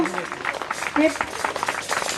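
An audience at a sports prize distribution ceremony gives brief, busy applause. The clapping is fairly loud and mixes with overlapping voices for a couple of seconds.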